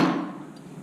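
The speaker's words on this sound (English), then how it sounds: "hammering the corners, bringing them down" A hammer striking the corners of a silver band ring, tapering them down: one short bright metallic tap with a quick ringing decay, close and isolated.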